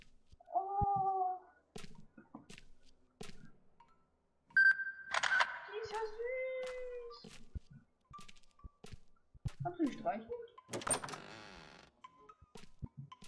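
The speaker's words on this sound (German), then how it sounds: "Eine Katze." A cat meows repeatedly in the Dreadout horror video game, short tonal cries between clicks and other game sounds, with a few bursts of noise.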